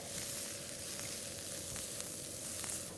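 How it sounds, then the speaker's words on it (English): Chopped shallots sizzle steadily in hot oil in a pan, a continuous close crackling hiss with faint pops, no voices. "To this oil, I'll add chopped shallots. Saute it until it gets translucent."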